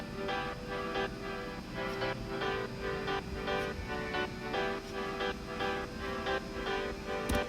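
Synth chords from a tropical house remix drop built in Logic pulse in a steady rhythmic pattern with bright upper tones, quiet and continuous for several seconds.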